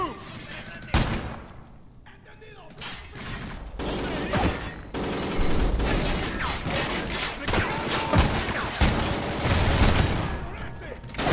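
Rapid bursts of gunfire in Call of Duty: Ghosts crackle almost continuously, with loud volleys and brief lulls, while voices talk over the action.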